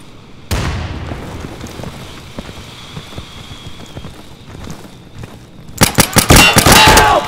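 In the video game Insurgency, a frag grenade blasts with a sudden loud boom, followed by a sparse crackle, then a rapid burst of gunfire near the end.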